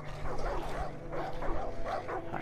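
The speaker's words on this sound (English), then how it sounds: "Alright, nice doggy." A dog barks and yips in Far Cry 5, with repeated close yelps and whimpers over a steady game hum and low background music.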